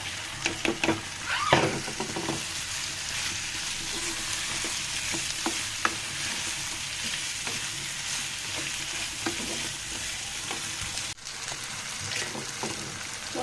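Masoor dal and mixed vegetables, including long beans, fry and get stirred in a pan. A steady, moderate sizzle runs throughout, with intermittent scraping and clinking from a utensil and no speech.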